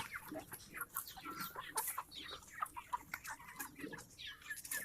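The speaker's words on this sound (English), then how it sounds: "Day 57, Red Ranger broilers." Red Ranger broiler chickens about eight weeks old cluck and chatter softly nearby, a busy, faint flock murmur of overlapping calls.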